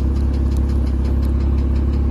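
A 2005 Porsche Boxster S (987) engine idling with a loud, rapid mechanical tick that appears once warm, a steady close-up rhythmic ticking over a low, even engine hum.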